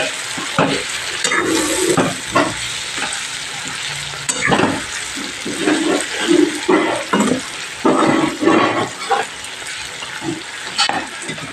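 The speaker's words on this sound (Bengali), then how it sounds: "এবার পরের পরোটাটা আমি তেলের মধ্যে দিয়ে দিচ্ছি ভাজার জন্য" A paratha frying in oil in a home kitchen, a steady sizzle broken by repeated scraping and stirring clatters from a spatula, loud and close with no talking.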